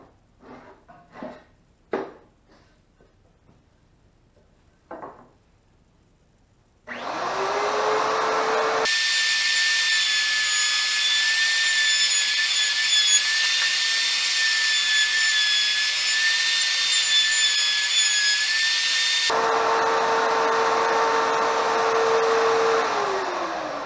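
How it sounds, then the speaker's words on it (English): A few sharp taps, then a router starts up and runs loud and steady with a high whine, continuously rounding the top edge of a wooden footstool for a long stretch. "I'm going to go ahead and put a round edge on the top of the footstool"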